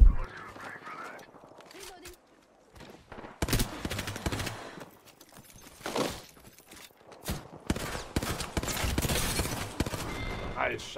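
Gunfire in a video game, with bursts of rapid shots and single cracks scattered across the stretch, separated by quieter gaps, and a player's voice talking in between.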